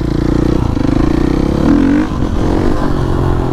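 Supermoto motorcycle engine revving hard and accelerating in a city, loud and close throughout with a rising engine tone midway and clattering mechanical noise.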